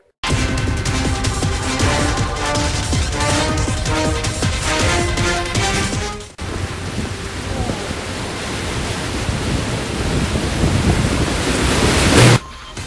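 Typhoon Ulysses batters Rizal province with strong winds and relentless rain. The storm's steady, broadband roar of wind-driven downpour fills the second half, following several seconds of music.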